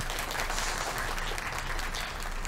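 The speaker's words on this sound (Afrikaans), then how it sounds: "kan ons 'n applous kry vir die voorbereide toesprake" An audience applauds after prepared debate speeches at a high school debating competition in the Free State, giving dense, steady clapping that continues evenly throughout.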